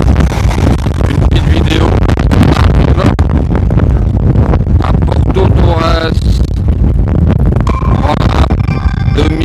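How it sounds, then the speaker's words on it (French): Strong wind buffets the microphone throughout outdoors at Porto Torres, Italy, a loud constant rumble under someone speaking in French. "Alors il y a beaucoup de vent."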